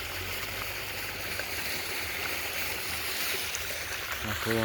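Water gushes from a broken hose pipe at a water tank, a constant loud rushing hiss close by, with a voice briefly at the end.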